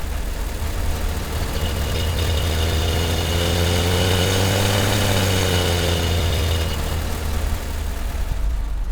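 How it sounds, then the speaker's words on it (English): Synthesized engine of a vintage Dacia 1310 car from the Krotos Igniter software, a continuous rumbling drone whose pitch climbs and falls as the revs rise and then settle, heard alone with no talking. "Let's go a bit vintage to start with and try out the Dacia 1310."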